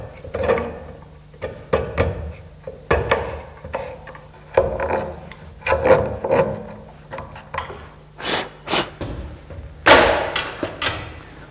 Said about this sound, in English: We need to scrape the old glue out of the mortise joint,